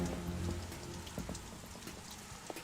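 Soft, steady rain patters on surfaces in Metal Gear Solid 2, a faint, even hiss of drops with occasional slightly louder splashes and no voices.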